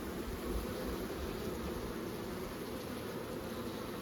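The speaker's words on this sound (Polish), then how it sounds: "Pszczoły spokojne, nie żądlą dzisiaj, nie atakują" Honeybees from a calm colony drone steadily and close during an early-spring apiary inspection in February, a continuous soft buzzing hum with no talk over it.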